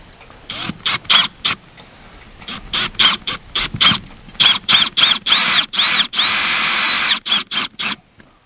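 Cordless drill driving self-tapping screws into the end of an RV slide-room bulb seal, heard as a series of short, loud whirring bursts of varying length, some drawn out, with brief pauses between them.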